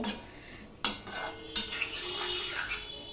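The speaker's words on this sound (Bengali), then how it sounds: "এবার সম্পূর্ণটা ভালো করে মিশিয়ে নিয়ে আমি ভালো করেই কষিয়ে নেব" Vegetables with tomato and a little water are stirred and sautéed in a pan, a metal spoon scraping and clanking against the pan in a few distinct strokes over a light sizzle, close with no speech.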